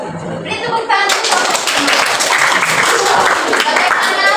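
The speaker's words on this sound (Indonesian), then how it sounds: "Beri tepuk tangan." Students in a biology class clap for a classmate's presentation on blood components, a loud burst of many hands that starts abruptly about a second in and continues steadily, with some voices mixed in.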